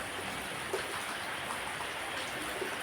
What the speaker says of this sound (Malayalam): സമയം ഏഴ് രാവിലെ നല്ല മഴ